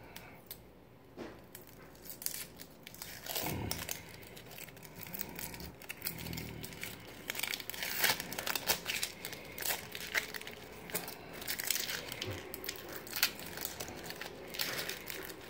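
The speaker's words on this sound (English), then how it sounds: "And peel off the outer skin here." Outer skin being peeled off a spicy sausage, a soft close crinkling, squishing and tearing that goes on steadily with small crackles and no talk.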